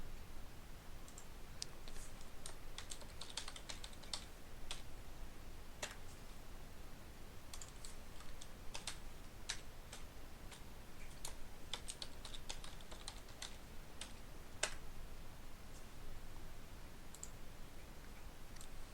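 A computer keyboard clicks in irregular bursts of typing as a username and password are entered, crisp keystrokes with short pauses, near and fairly quiet in a still room.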